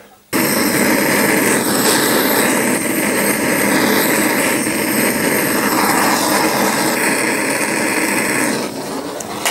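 A gas torch roars in a loud, steady hiss that starts abruptly and holds for several seconds while heating a seized part on a 1954 Panhard Dyna Junior chassis in the workshop.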